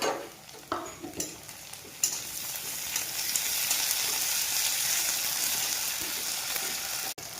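Onion and potato pieces sizzle steadily in a hot pan for a Maggi masala, with a few sharp scrapes and clinks of a spatula stirring near the start, then an even frying hiss that runs on, close and clear, with no talk.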